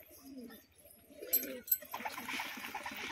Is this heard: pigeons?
yes